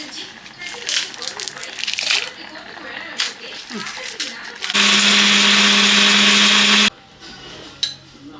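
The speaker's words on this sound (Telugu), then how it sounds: "ఈ విధంగా మెత్తగా మిక్సీ పట్టేసుకోవాలి" A kitchen mixer grinder jar whirs loudly and steadily for about two seconds while grinding rasam spice powder, starting and stopping abruptly amid quieter kitchen clatter before and after.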